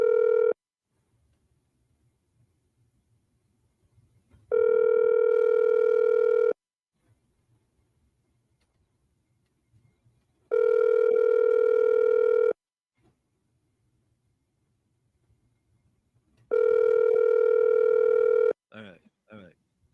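A telephone ringing over a radio-show line, with three long, loud, steady tonal rings of about two seconds each, separated by roughly four-second gaps. Faint low background noise fills the pauses.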